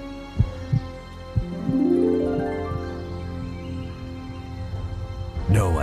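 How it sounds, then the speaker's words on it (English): Muffled, rhythmic heartbeat thumps from inside a small solid iron chest, an audio drama effect. Low, soft beats come first, then a swelling droning tone rises behind them. "from inside that, they heard the rhythm of a muffled heartbeat."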